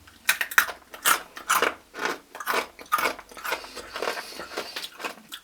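Crunchy breadsticks bitten and chewed up close, a quick run of sharp, dry crunches in an uneven rhythm, loud and alone with no talking.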